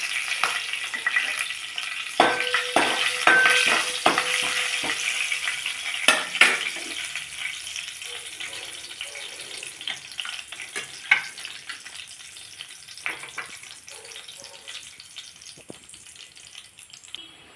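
Sliced onions with a pinch of turmeric fry in a pan for a broad bean curry, crackling steadily. Bursts of spatula scrapes and clatters come early, then the sizzle eases to a quieter sputter with scattered pops.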